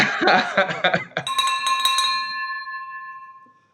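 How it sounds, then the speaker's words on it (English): A silver hand bell is struck once after a stretch of talk, its bright metallic tone sustaining and slowly ringing out into silence. "the great thing about this silver bell is it has unlimited amount of rings that I can do here"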